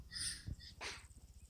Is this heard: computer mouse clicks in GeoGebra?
no